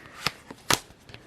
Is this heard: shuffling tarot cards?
yes